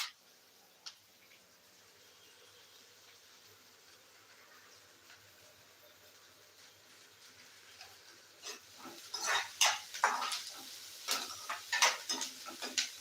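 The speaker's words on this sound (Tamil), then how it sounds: "இதை நல்லா வதக்கிக்கலாம்" Onions and spices being sautéed in a pan for a village-style Tamil egg curry, with soft sizzling and a scraping spoon, stirring clicks growing busier and louder in the last few seconds, no talking.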